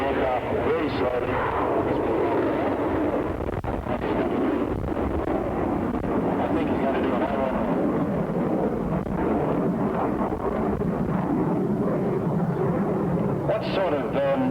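Aircraft flying aerobatics at the 1983 RAAF 80th Anniversary air show at Point Cook, a loud, continuous jet roar that swells and fades throughout, with background noise and possible voices mixed in.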